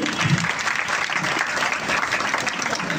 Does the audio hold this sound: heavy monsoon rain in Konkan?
no